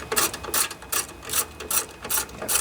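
A socket ratchet loosens the engine cover bolts on a Briggs and Stratton lawnmower engine, giving close, steady rhythmic clicking strokes, about six in quick succession.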